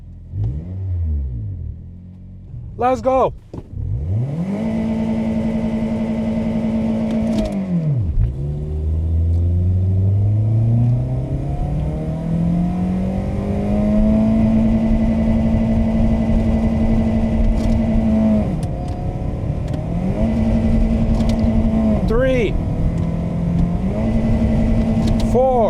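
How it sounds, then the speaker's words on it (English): A cold Toyota car engine running on vodka cranks, catches and starts, then revs up and settles into a steady idle, loud and close, with a brief spoken phrase near the start. "Will the car turn on properly?"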